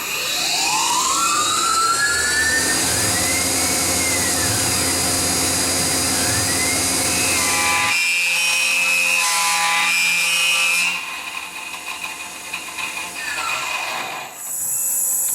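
A Tormach PCNC1100 end mill chatters loudly while machining a Volvo pulley, a harsh, steady metallic whine with shifting ringing tones that drops off near the end.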